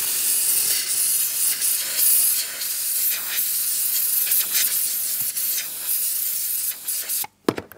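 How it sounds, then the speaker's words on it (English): A steam cleaner blasts steam across a car's interior, giving a loud, steady hiss that runs almost without a break, then cuts off sharply near the end. "A few seconds of steam, and that's the results you're going to get."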